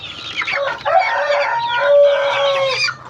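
A rooster crows loudly and close, with Shamo chickens clucking around it in one continuous, busy stretch of backyard calls.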